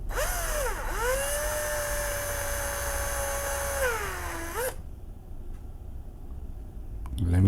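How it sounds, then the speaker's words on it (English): A power drill whining steadily with rising and falling pitch during custom work on a Suzuki Jimny, running loud and close for nearly five seconds, then cutting off into quieter workshop noise. "Let me change up the drill bit."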